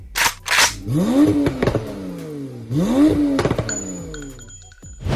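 A Porsche 992 Turbo S tuned to about 1150 bhp revs hard twice in quick succession, each blip climbing and falling back, loud and close, with sharp pops at the start and a steady whine near the end.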